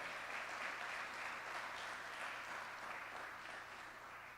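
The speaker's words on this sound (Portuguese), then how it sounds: "Vamos aplaudir o Senhor por essa coragem bem forte?" A church congregation applauds during a worship service, sustained clapping from many hands at moderate level with a low hum underneath, tapering slightly near the end.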